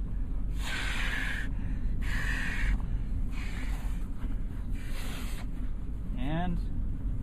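Someone blows into the open inflate valve of an Exped neck pillow, giving four long, breathy puffs with short pauses between them over a steady low background hum.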